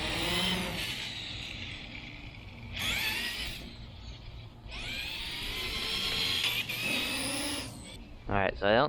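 A Traxxas E-Maxx 3906 electric RC monster truck drives around a front yard, its motor whining in rising and falling bursts as it speeds up and slows, with a person talking over it.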